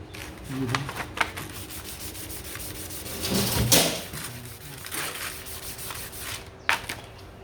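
Sandpaper rubs the wooden slider of a custom harp in a series of uneven scratchy strokes, close and moderately quiet, with a few sharper knocks and a louder swell midway.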